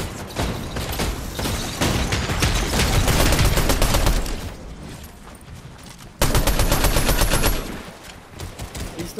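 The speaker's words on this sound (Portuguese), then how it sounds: "Que tiro foi esse?" Rapid bursts of Fortnite gunfire, loud and dense, with automatic fire and short pauses between volleys.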